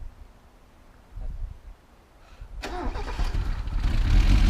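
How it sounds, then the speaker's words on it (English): A Mazda Miata engine cranks with a low, labored churn, falls briefly quiet, then catches and starts, settling into a loud, close running rumble that builds toward the end, with no voices. "Crank it and hold it until something happens."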